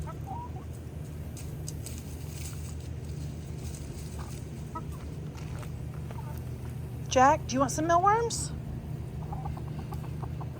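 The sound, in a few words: chickens clucking while eating mealworms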